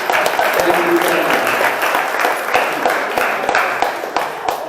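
A room of seminar attendees gives a loud, sustained round of applause, dense clapping from many hands that holds steady throughout.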